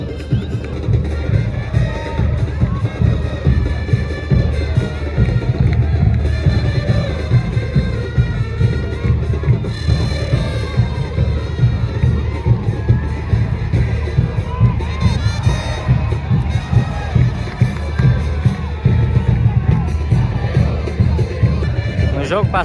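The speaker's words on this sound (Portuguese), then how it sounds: "A torcida deles é bem barulhenta, o tempo todo cantando." Olimpia's organized supporters sing loudly and continuously in a stadium in Encarnación, Paraguay, a dense rhythmic crowd chant with cheering filling the stands, and a nearby voice speaks over it.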